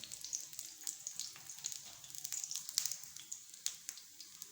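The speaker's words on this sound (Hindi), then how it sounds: "इस तरह बिल्कुल हल्की आंच पे हम इनको फ्राई करेंगे ताकि ये अंदर तक पक जाए।" Vegetable chapli kababs fry gently in oil over low heat, giving a steady soft sizzle with scattered small pops and crackles throughout, close and fairly quiet, with no talking.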